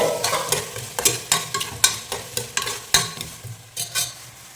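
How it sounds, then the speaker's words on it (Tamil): Potato pieces get stirred in a hot pan of oil, the spoon scraping in a steady run of sharp strokes, about a dozen in all, over a continuous close sizzle, with no voices. "இப்போ இதில் வந்து உருளைக்கிழங்கு போட்டேன்"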